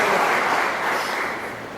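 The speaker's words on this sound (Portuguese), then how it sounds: "Pode aplaudir." A church congregation applauds with dense, continuous clapping that stays full and even, then eases slightly toward the end.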